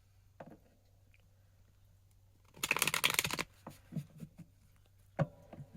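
A deck of tarot cards is riffled in one quick, close burst lasting under a second, followed by a few soft taps and handling sounds in a quiet room.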